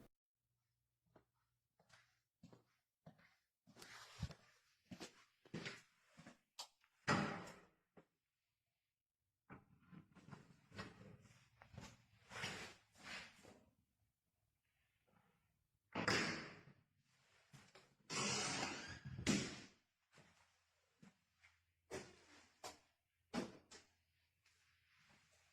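Doors in an empty building knock, bang and creak again and again at an irregular pace, with scattered thuds and clatters throughout, all fairly quiet and distant.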